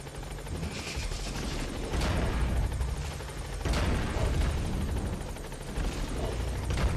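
Helicopter in the video game Metal Gear Solid V, a rotor chop thudding steadily at a middle distance, with swells of noise and sharp bursts that may be gunfire mixed in.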